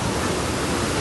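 The Bhandardara waterfall roars in a dense, unbroken wash of falling and spraying water, loud and close, with no other sounds standing out.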